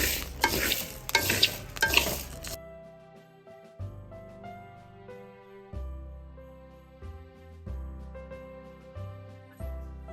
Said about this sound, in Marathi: भाजून येताना तांदूळ पटा पटा पटा पटा फुटता